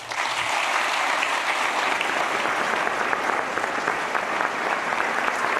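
A large audience claps steadily, a dense, even wash of applause that holds for several seconds without any voice over it, greeting Elon Musk as he comes on stage.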